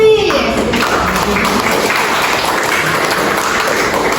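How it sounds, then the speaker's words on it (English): Classroom applause for a student group during a reading teaching practice session: a brief tone at the start, then steady, fairly loud clapping that continues throughout. "Give applause to Group 3"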